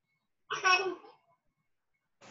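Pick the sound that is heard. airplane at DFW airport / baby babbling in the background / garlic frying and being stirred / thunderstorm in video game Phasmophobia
baby babbling in the background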